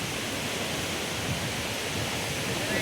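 Tad Ta Yik Suea waterfall in southern Laos roars as a steady, broad wash of falling water, continuous and fairly close, with no talk over it.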